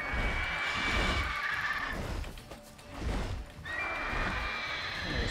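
A horse whinnies in The Witcher 3, loud at first, then fading, then returning, over a dense wash of game ambience with hoof clatter mixed in.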